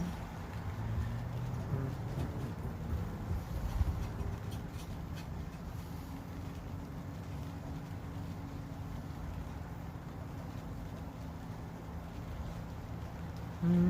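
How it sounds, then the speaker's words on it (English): Steady rain falls outdoors at a ranch, a soft continuous hiss with patter that holds evenly throughout, with no voices. "here comes the rain"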